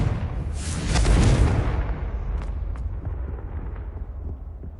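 A Confringo spell explosion from the video game Hogwarts Legacy bursts with a loud booming blast that peaks after a second, then decays into a rumbling tail with a few faint crackles.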